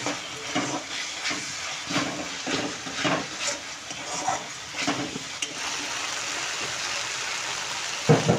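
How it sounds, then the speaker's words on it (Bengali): Fish pieces for Bengali doi katla sautéing in a pan, a steady sizzle with rhythmic scraping and stirring strokes about every half second, close and continuous. "এবার আমি এটাকে একটু কষাবো।"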